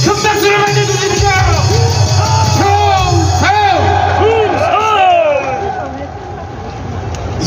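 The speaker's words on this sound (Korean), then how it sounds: "큰 박수를 맞아주십시오" A crowd at a political rally roars as a guest is welcomed, with loud sustained cheering, whooping and shouted voices over a low hum, easing off slightly toward the end.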